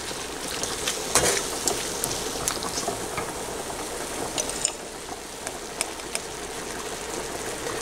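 Chicken pieces fry in a pan with a steady, close crackling sizzle and bubbling, a few sharper pops standing out over the continuous hiss.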